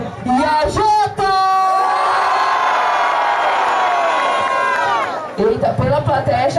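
A live rap battle audience roars with cheers, whoops and sustained shouting, the crowd noise swelling loud and full for several seconds before fading back into scattered voices.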